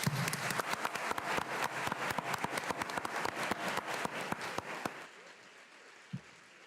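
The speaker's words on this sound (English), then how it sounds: "Round of applause." An audience applauds at a political candidate forum, dense rapid clapping with distinct sharp individual claps that runs for about five seconds, then drops away into quiet room tone with a single soft thump.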